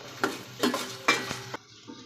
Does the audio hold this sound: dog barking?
no